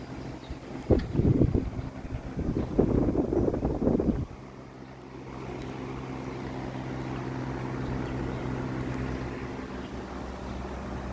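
Westinghouse MobilAire 16-inch pedestal fan (16MA3) with steeply pitched blades blowing hard: a steady broadband whoosh of moving air with a low motor hum. A gusty buffeting burst comes first, then a smooth, even rush close to the microphone.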